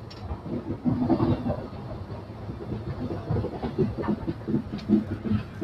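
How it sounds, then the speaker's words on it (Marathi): A passenger train pulls out of Daund Junction, its low rumble and uneven rhythmic rattle of wheels and carriages rising and falling steadily close by, with no voices over it. "गाडी आता दौंड जंक्शनवरून डिपार्चर होत आहे"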